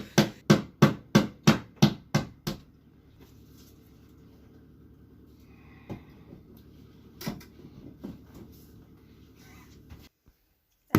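A nail is tapped into drywall using the handle of a screwdriver instead of a hammer: seven quick, sharp knocks in a steady rhythm, then quiet room tone with a few scattered, softer taps and thumps.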